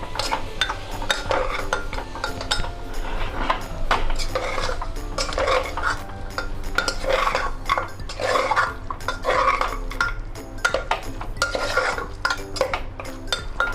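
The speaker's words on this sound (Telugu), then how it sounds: "ఇలా అంతా మసాలా అంతా కలిసేలాగా మటన్ ముక్కలకి కలుపుకోవాలి." Mutton pieces being stirred with masala in a steel pressure cooker, a spoon scraping and clanking against the metal in quick repeated strokes, close and fairly quiet, with no talking.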